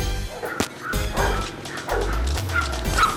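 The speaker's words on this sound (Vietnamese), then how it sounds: "Ôi, con chó ở đâu thế nhỉ?" A dog barks and yips in short, repeated bursts mixed with whimpering, fairly close and busy, with some background thumps around it.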